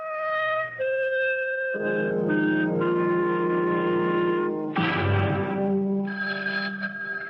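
A telephone rings in a 1975 radio drama, heard as loud, sustained, buzzy tones that shift in pitch and texture, with no one speaking over it.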